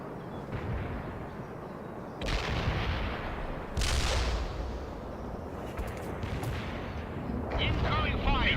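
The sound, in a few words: artillery fire in video game World in Conflict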